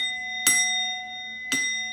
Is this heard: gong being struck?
yes